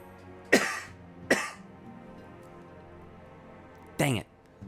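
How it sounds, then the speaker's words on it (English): Three separate coughs, loud and close: two sharp ones about a second apart, then a longer, harsher cough after a pause, with quiet background between them. "Finally coughed."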